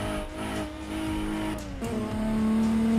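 Toyota Supra with a turbocharged 2JZ engine in Assetto Corsa EVO, its engine note droning steadily with a rising whine as the turbo spools, loud and close with a rushing air hiss over it.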